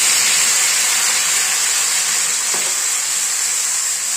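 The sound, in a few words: bottle gourd frying with garlic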